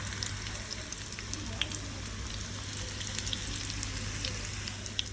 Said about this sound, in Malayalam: തേങ്ങാക്കൊത്ത് നെയ്യിൽ ഓർത്തിടാവേ